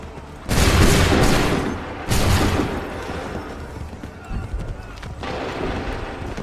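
Musket volleys firing in Assassin's Creed 3, two loud booming bursts a second apart followed by a rumbling echo, then a third, softer volley near the end amid battle noise.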